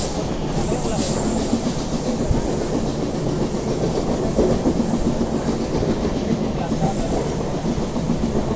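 A Jan Shatabdi Express train in India rolls along the tracks, a loud steady rumble with clattering wheels and a faint high whine, heard continuously from inside a carriage.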